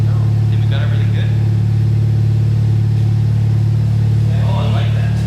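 A 2021 Honda Civic Type R fitted with a MAPerformance street exhaust rumbles loudly and close in a deep, steady drone, with a couple of brief rises in the engine note and people talking over it.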